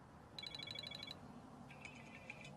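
iPhone 7 ringtones being previewed, two short faint electronic melodic tone sequences, one after another, quiet against background hiss with no talk.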